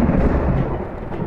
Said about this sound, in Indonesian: Bacot petir.